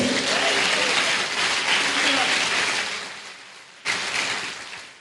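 A church congregation applauds steadily, fading toward the end before a short fresh burst of clapping.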